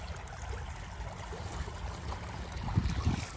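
Steady rushing water runs beneath a low continuous wash at a rocky shore where crabs are being caught, with a few stronger gurgling surges near the end.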